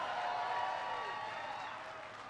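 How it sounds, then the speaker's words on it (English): A large crowd at a speech in Wayne, Michigan on the auto industry recovery applauds in a sustained, even wash of clapping and cheering, heard from a distance and slowly tapering off. "Give me a big round of applause for that outstanding introduction."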